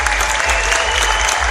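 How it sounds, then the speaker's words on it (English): An audience at a OneCoin event in Gothenburg, Sweden, applauds steadily, a dense, loud, continuous clapping from a large crowd with no voices over it. "please give them a round of applause"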